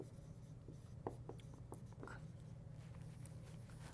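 Writing on a board makes a faint run of short scratchy strokes and taps in an otherwise quiet room during a grammar lesson.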